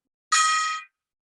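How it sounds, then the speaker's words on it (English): A single bright metallic strike rings out with a shimmering, tone-rich sustain that cuts off after about half a second, close and alone. "I'm dinging the gong"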